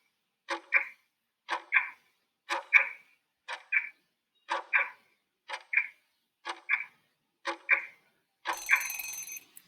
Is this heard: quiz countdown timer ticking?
yes